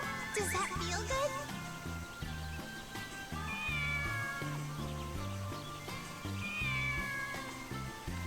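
A cat meows repeatedly in Sakuna: Of Rice and Ruin, its bright calls rising over game background music, with a voice speaking at the start.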